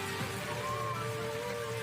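Heavy rain driven by strong wind during a storm in Sukabumi, West Java, heard as a steady, fairly quiet hiss of rainfall with a faint tonal hum beneath it.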